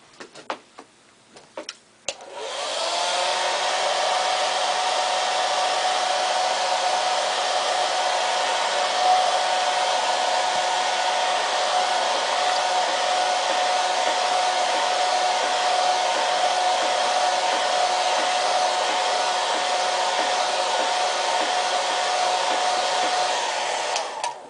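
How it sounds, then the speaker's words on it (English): A hair dryer roars steadily at close range for a long stretch after a few brief clicks at the start, with no voices. "I'm also going to bring my dryer a little bit closer so that I can dry"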